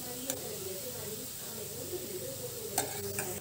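Potatoes stir-fried in a pan with spice powder give a steady low sizzle, with scraping stir strokes and a couple of sharp utensil clicks, and a voice speaks over the cooking.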